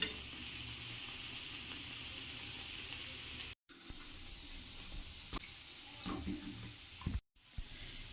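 Sweet gulgula dough balls deep-frying in oil over a low-to-medium flame make a soft, continuous bubbling sizzle broken by two brief gaps, fairly quiet and close.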